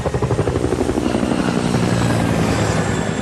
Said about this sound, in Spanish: En su embarcación, Mark Holbrook oyó el sonido de un enorme helicóptero a baja altitud.